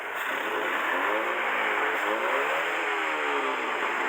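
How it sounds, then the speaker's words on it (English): A Mercedes W115 engine with a blowing exhaust revs continuously and loudly close by, the pitch rising and falling with a rough, raspy exhaust note and no talking. "Listen to when I rev it, just how much smoother it is. Obviously exhaust is blowing"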